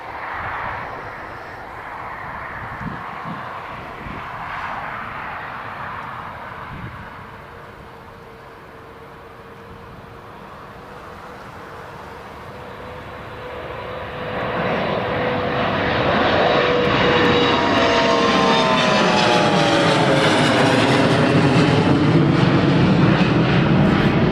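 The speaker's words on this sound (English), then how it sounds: "let's pan back to the Lufthansa. Heading to Frankfurt. Here it goes. Just rolling along the runway" Lufthansa airliner bound for Frankfurt taking off at Newcastle Airport, its jet engines rising from a distant rumble into a loud, roaring spool-up as it rolls down the runway and passes nearer, with a sweeping pitch shift.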